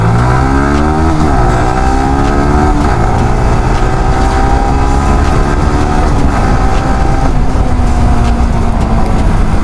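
A motorcycle fresh from a Castrol Power1 oil service is ridden hard. The loud, close engine climbs in pitch through repeated revving sweeps as it shifts up through the gears, with no talking over it.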